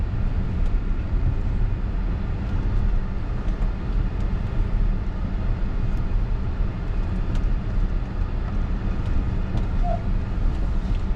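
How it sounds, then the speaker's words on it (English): An off-road vehicle descends a trail on Melendrez Pass in four-low, its engine braking as a steady, loud low rumble with a continuous drone and no break throughout. "4 low helps a lot here because you get engine braking as well as your foot braking."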